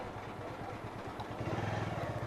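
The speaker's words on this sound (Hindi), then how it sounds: "मोटरसाइकिल कहाँ खड़ी कर दूँ" A motorcycle engine on a Char Dham pilgrimage ride near the Kedarnath temple putters close by at low revs, its steady throbbing pulses growing slightly louder toward the end.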